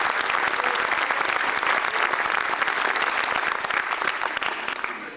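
An audience at a corporate film festival in Biarritz breaks into dense, sustained applause, loud and even throughout before tapering off at the close.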